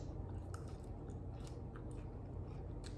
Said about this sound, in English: that crunch from the pecans is so perfect